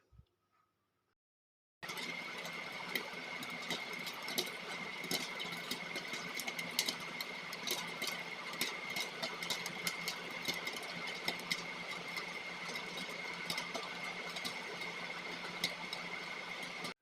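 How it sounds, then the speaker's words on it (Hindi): Popcorn kernels pop in a pot on a home stovetop, giving rapid, irregular ticking clicks over a steady background hum. "जब तक इसकी टिक टिक की आवाज़ आती रहेगी आपने फ्लेम को ऑफ नहीं करना है"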